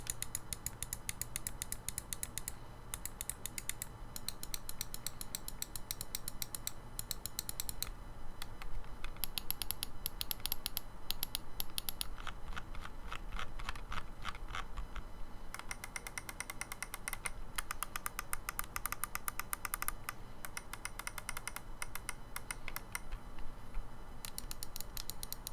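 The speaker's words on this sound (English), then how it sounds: "I'm going to give you a quick sound test to see what these buttons sound like on the MM711" Rapid, dense clicking of the Cooler Master MM711 gaming mouse buttons, heard up close, crisp and continuous throughout with short bursts of varying intensity and no talking.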